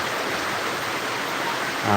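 Heavy rain pours steadily during a downpour at night in Bangladesh, a dense, even hiss that holds constant from start to finish, with a slightly louder, fuller swell near the very end.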